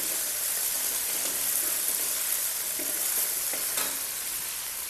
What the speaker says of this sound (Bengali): পেঁয়াজটাকে এখন একটু ভেজে নেব।